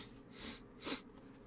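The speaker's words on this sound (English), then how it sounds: "Sorry, got the sniffles." Two short, soft sniffs of air through the nose, one after the other, quiet and close.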